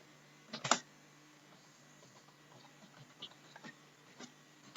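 A computer keyboard typed on at a PC in short, irregular bursts of light clicks, with one louder clack near the start, fairly close and quiet with no talking.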